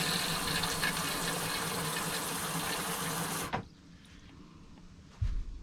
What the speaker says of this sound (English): we're going to put some water in this thing now.